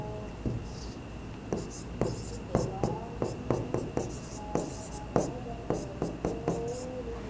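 Pen scratching on paper by hand, a close run of short strokes and scribbles in irregular bursts, fairly loud against a quiet background.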